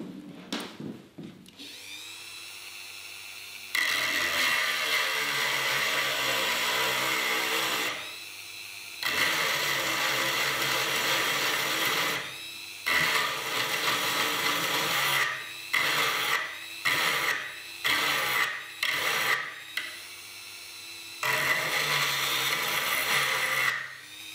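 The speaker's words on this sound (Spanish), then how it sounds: "vamos a pasar ahora a afilar la sierra" Ice axe pick's saw teeth being sharpened, with long sustained bouts of harsh rasping and grinding separated by pauses, then a run of short choppy bursts, close and loud.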